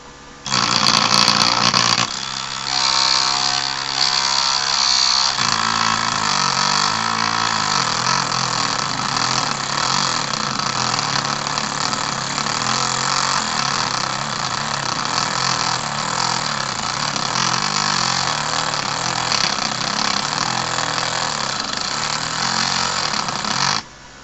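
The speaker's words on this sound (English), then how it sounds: "I'm not cutting anymore, I'm just grinding the ends now." An angle grinder flattening the cut ends of steel rods, a loud continuous harsh whine with rough grinding texture and pitch that wavers as pressure changes, close and steady for the whole stretch.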